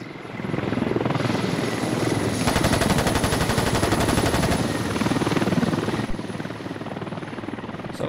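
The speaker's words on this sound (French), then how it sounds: "T'as essayé Walt de piloter les hélicos sur Spawn?" A military helicopter in the game Squad, a loud steady rotor roar with fast chopping blade pulses that swells in the middle and eases off toward the end, heard alone with no voices.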